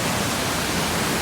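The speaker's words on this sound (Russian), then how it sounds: "Вот такие маленькие водопады, новые появились." Small roadside waterfalls on the road to Ritsa in Abkhazia give a dense, steady rush of falling water, loud and close, with no voices over it.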